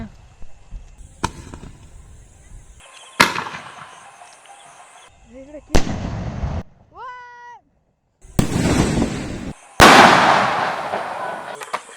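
Several loud, sharp thunderbolt firecracker blasts spaced a second or two apart, each with a booming echo, and a brief whistling tone in between.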